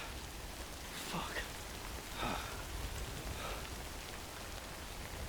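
Steady rain hissing over a surface in the video game Death Stranding, a dense continuous wash with a few brief brighter swells, no voices.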